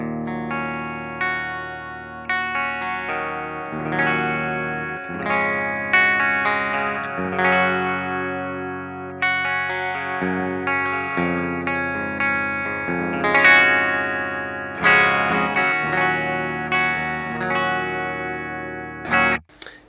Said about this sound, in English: So this is the raw clean sound.